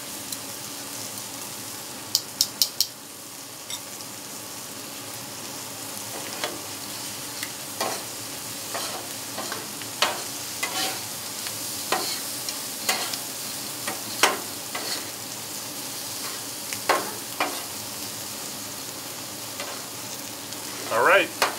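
Food sizzles steadily on an outdoor hibachi-style teppanyaki griddle top, seasoned with lemon juice and garlic powder, with a continuous close fry broken by frequent sharp scraping clicks of a spatula stirring and turning the food.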